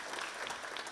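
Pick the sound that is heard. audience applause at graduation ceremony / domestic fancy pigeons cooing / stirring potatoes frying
audience applause at graduation ceremony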